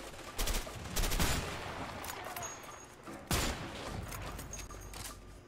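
Gunfire from a shootout in the video game A Way Out: bursts of shots crackle at several points, with heavier volleys near the start and again partway through, over a steady backdrop of game noise.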